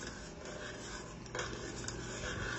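A spoon stirring bean soup in a pot: a continuous scraping, rubbing swirl, close and steady, with a slightly brighter scrape partway through and no talking.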